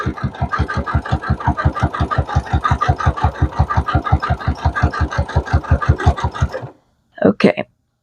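Domestic sewing machine stitching a long fabric tube for a jelly roll rug, running in a fast steady stitch rhythm for several seconds before stopping, followed by a couple of brief mechanical clicks.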